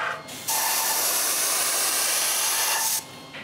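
A paint sprayer spraying metal paint while fixing up a trailer, one loud continuous hiss lasting about two and a half seconds and then cutting off abruptly.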